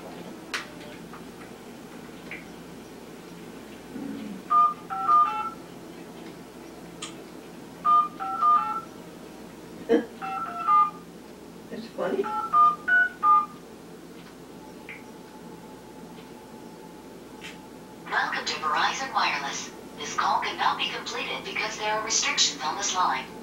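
Telephone keypad dialing: several short bursts of paired DTMF beeps in quick groups, fairly clear and close, with brief pauses between groups and people talking around them.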